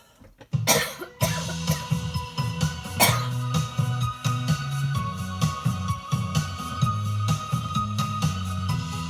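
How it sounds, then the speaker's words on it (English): One person coughs sharply a couple of times at the start, then a low droning, stepping hum carries on underneath. "I'm going to cough"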